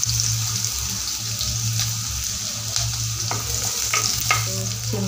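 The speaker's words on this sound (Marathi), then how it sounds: "आता टाकते मी कांदा" Chopped onion dropped into hot oil with cumin seeds in a kadhai gives a steady, close frying sizzle, with a few sharp utensil clicks and no talking.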